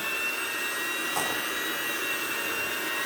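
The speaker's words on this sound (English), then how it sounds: "I take the lesser road and I'm going to use a mixer" An electric hand mixer creams butter, sugar and eggs for tea-cake-style chocolate chip cookie dough, giving a steady, close, continuous whir with no break and no talk.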